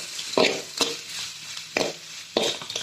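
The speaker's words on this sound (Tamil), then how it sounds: "தட்டி வச்ச பூண்டை போட்டுக்கோங்க. போட்டுட்டு நல்லா வதக்கி விடுங்க." Crushed garlic frying in a pan for a sardine gravy, with a soft background sizzle and four distinct scraping strokes of a spoon stirring against the pan, close up.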